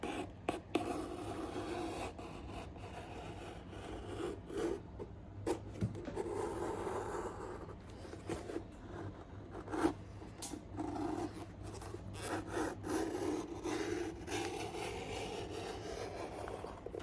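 A hook blade knife trims the edge of boot leather in a workshop, giving steady rubbing, scraping strokes with brief sharp cuts, close and continuous over a low background hum.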